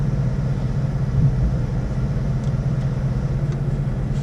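Chevrolet Camaro ZL1 engine while driving in sport mode: steady low rumble and drone from inside the car, even and moderately loud, no talk.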